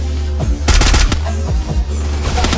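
Rapid, loud automatic gunfire in the video game Garena Free Fire rattles in close bursts throughout, with dense repeated shots and no talking.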